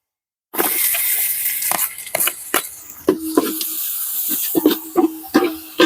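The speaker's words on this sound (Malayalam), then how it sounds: "ചെറിയുള്ളിയും വലിയുള്ളിയൊക്കെ നന്നായി വതങ്ങി വന്നിട്ടുണ്ട്" Shallots and onions sauté in a pan of hot oil for mutton curry, a loud close sizzling hiss broken by repeated sharp clinks and scrapes of a utensil stirring.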